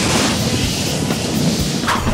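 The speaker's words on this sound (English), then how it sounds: "caused an enormous explosion, unlike anything ever seen in Wulin" Enormous explosion effect in an animated martial-arts fantasy battle, a dense, loud rumbling roar with a booming low end that fills the full two seconds without letting up, with no speech.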